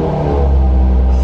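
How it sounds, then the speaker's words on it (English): Cold start of a 2020 Toyota Supra fitted with an HKS exhaust: a deep, loud, steady engine rumble and idle drone, close to the car, with no talk over it. "So we're gonna hear it start up, cold start."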